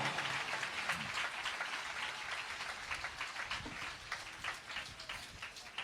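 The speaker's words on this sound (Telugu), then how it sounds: "ఓసారి చప్పట్లు కొడుతూ ప్రభునామాన్ని మహింపరుద్దాం." A church congregation claps along in faint, distant applause with an uneven, rain-like patter that fades and then rises again, and no voices can be made out.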